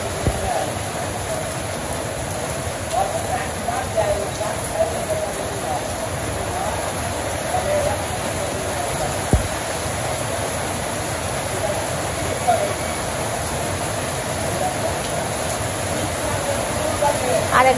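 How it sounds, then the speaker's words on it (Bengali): Steady rain pours over a village, a continuous broadband wash of falling water that holds at an even level throughout, with faint voices murmuring underneath. "বসে বসে বৃষ্টি দেখতেছি।"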